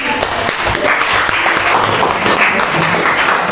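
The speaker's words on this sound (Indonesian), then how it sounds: "tepuk tangan untuk kelompok 3" A room of junior high students applauds a group, steady dense clapping filling the whole stretch, fairly loud and close.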